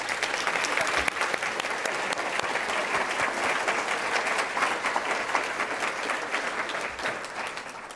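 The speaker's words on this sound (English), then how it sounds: "please help me and give them a big round of applause" Steady, dense applause from a large audience at an opioid policy summit, thanking a panel; sustained clapping at full strength for the whole stretch, easing slightly at the end.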